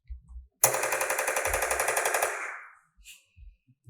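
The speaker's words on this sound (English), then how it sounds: "All I got is my gunshots" A loud, rapid burst of machine-gun fire lasting about two seconds, with evenly spaced shots, followed by a few faint thumps.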